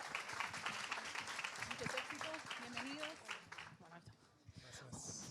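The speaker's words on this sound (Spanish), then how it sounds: "Un aplauso para ella también" An audience applauds at a national youth gathering, a quiet, patchy clapping with voices talking over and around it, fading toward the end before picking up again briefly.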